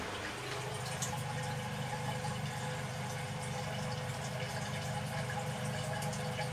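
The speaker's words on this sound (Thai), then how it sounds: "น้ำไหล" Water runs steadily through a freshly unclogged drain pipe below a grease trap, a constant rushing flow with a low hum underneath that holds at an even level throughout.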